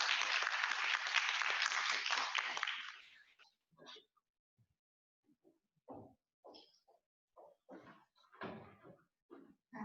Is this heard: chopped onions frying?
no